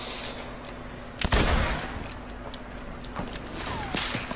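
Gunshots in a video game: a sharp, loud blast near the middle followed by scattered fainter shots and clicks over low game ambience, with no one speaking.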